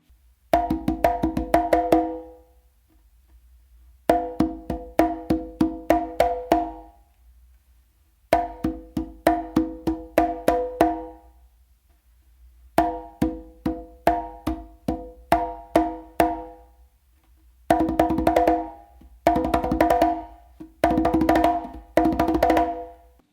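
A conga combination pattern played on congas in several bursts separated by short pauses, mixing crisp slaps and open tones in a lively rhythm that grows busier toward the end, close up with no voices.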